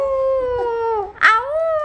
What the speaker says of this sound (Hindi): ये कम भौंकते हैं, ये आउल करते हैं